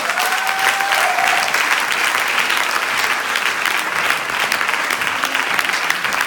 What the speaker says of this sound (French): Est-ce qu'on peut applaudir la demoiselle ?